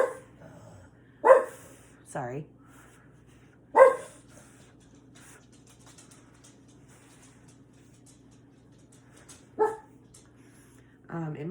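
Dogs bark in short, loud bursts at several points, near and clear over a low steady hum, with a person speaking briefly between barks.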